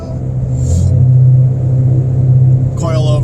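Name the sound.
car accelerating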